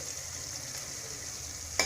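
Quail eggs go into a simmering masala: a steady, hissing sizzle holds throughout, then a single sharp tap of a utensil sounds at the end.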